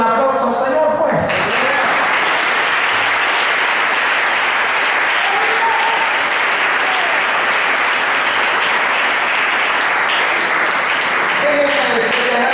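A church congregation breaks into loud, sustained applause for the Lord during a Spanish-language sermon, a dense wash of clapping filling the room with a few voices briefly audible at the start and end.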